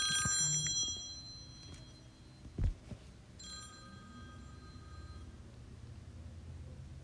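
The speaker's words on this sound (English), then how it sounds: "Sorry about that phone interruption." A telephone rings during a recorded math lecture, with a couple of short ring bursts standing out from quiet room noise and a soft thump partway through.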